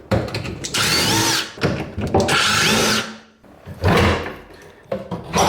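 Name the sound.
power drill unscrewing screws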